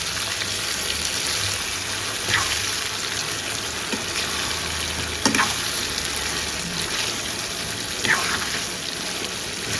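Stuffed brinjal masala roast stirred slowly in a frying pan, a continuous sizzle and bubbling with occasional scraping strokes spaced a few seconds apart.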